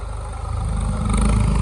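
A tractor engine runs close by with a loud, steady low rumble that grows slightly stronger toward the end.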